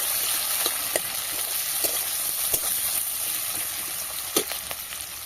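Chopped onions fry in hot oil for a chicken dish, a steady, bright sizzle with small crackles and pops scattered through it, close and even from start to finish, with no talk.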